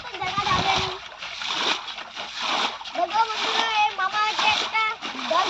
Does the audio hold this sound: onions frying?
no